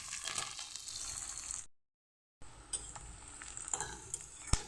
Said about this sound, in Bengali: পেঁয়াজ কুচি দিয়ে আমি ভালো করে ভেজে নেব।